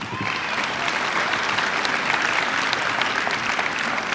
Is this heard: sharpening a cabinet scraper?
no